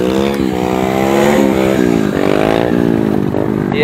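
Several stunt motorcycles rev hard and continuously during a warm-up session for city stunt riding, engines rising and falling in overlapping loud, close whines with repeated throttle blips.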